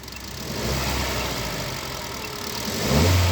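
A Kia Carens engine running under diagnosis, a steady mid-pitched hum that swells slightly and climbs again near the end as it is revved, close and alone without talk.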